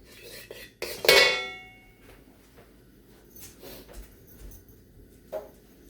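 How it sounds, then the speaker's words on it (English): A metal pan lands on a stovetop with a single loud clank and ringing clatter, followed by quiet kitchen handling noises and faint small knocks in a home kitchen. "Put the pan on. Put the flame on."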